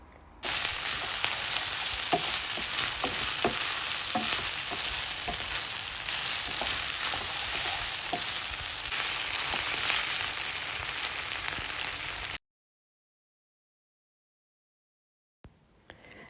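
Vegetables with nutmeg frying for a bolognese sauce, a dense continuous sizzle with scattered spoon taps for about twelve seconds, then silence before a brief clink.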